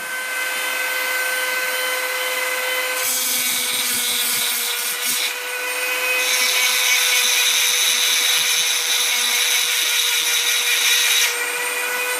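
Parkside PFBS 12 A1 cordless multi-grinder grinding aluminium: a steady high motor whine with a harsher, louder scraping stretch as the bit bites the metal, close and continuous with no talk.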